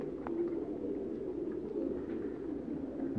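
Pigeons on a rooftop loft in Faisalabad coo in a low, steady murmur, faint and continuous, with no voices over it.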